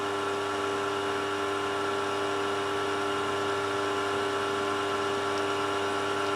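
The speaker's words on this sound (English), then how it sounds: "this time I'll do it with the motor running on a slow speed" A milling machine spindle motor runs at slow speed with a steady, continuous electric hum and whine, even and unbroken, alone without talk.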